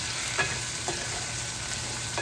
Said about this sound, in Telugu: ఒక స్పూను సాల్ట్ ఇప్పుడు వేసుకొని ఒకసారి తిప్పుకొని